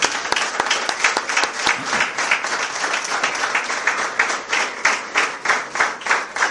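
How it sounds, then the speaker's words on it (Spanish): A church congregation claps together in a dense, steady round of applause that fills the whole stretch, loud and close, with no talking over it. "dame un aplauso al Señor"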